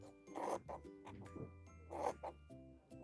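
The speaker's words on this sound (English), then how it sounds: "So now I'm going to cut along my marked line here." Scissors cut through fabric along a marked line, a few close, quiet rasping snips in a slow irregular rhythm, no talking.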